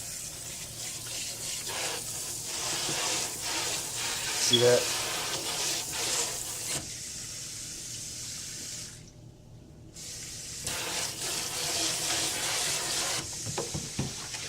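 Cold tap water running into a sink during cleaning, a steady close hiss and splash that drops out briefly near the middle before resuming, with a voice speaking over it.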